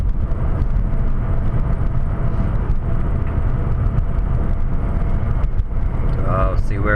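A car climbs a snowy hill on a Canadian winter road, its engine and road rumble droning steadily and loudly throughout, with a person talking over it.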